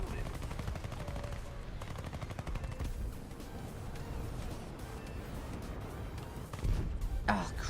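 Rapid machine-gun bursts from an aircraft in the combat game War Thunder crackle loudly and repeatedly, with a heavier thump of gunfire near the end over constant engine noise.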